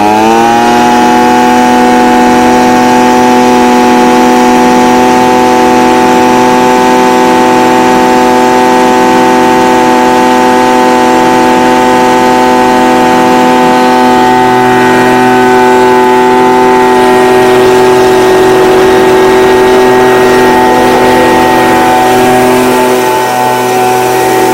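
A Stihl BG55 leaf blower's small two-stroke engine runs loud and close, holding a steady whining drone for the whole stretch with only a slight sag near the end.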